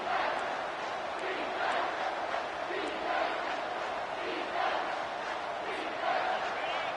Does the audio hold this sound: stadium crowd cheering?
yes